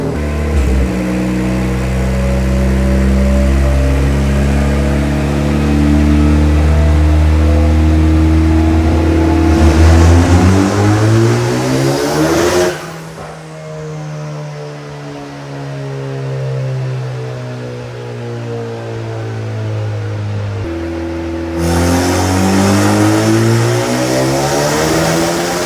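Turbocharged Honda K20C engine in a Lamborghini Super Trofeo on a dyno, loud and close, revving up in long rising pulls with a sharp drop near mid-clip, then climbing hard again to the end; no talk.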